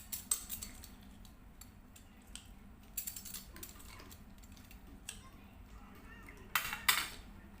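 Shrimp ball ingredients with onion and squeezed lemon being mixed in a bowl: scattered scraping clicks and clatters, a few sharper bursts near the end, fairly close, over a low steady background hum.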